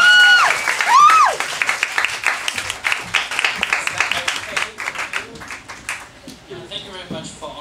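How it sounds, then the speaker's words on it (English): Audience at a Toastmasters demo meeting bursts into steady clapping with a few high screams and whoops at the start, applause continuing densely throughout and thinning near the end. "So, please, may I have your scream and applause?"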